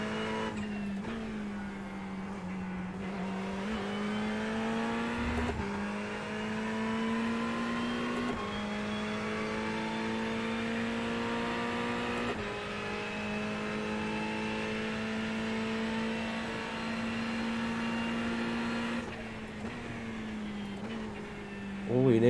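A Ferrari race car engine in the iRacing simulator, a steady loud drone that rises in pitch through each gear and drops sharply at the shifts, running continuously with someone talking over it.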